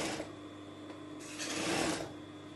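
An industrial sewing machine set to a long stitch runs close by in a steady whirring burst that swells for a moment before easing off.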